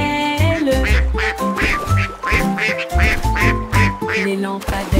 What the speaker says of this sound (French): Tous les canards cancanaient et battaient des ailes.